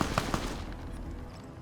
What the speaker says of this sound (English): Gunfire in the distance.